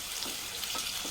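Ginger paste and onions fry in hot oil for a mutton gravy curry, giving a steady, close crackling sizzle with small pops throughout.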